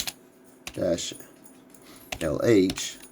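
A command is typed on a computer keyboard in a quiet room, a few sparse key clicks with someone speaking between them.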